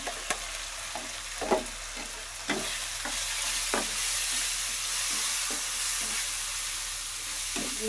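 Spice powder sizzling as it fries in a pan, a steady broadband hiss with scattered crackles and a few sharper spatula scrapes and stirring knocks throughout, close and fairly loud with no talk.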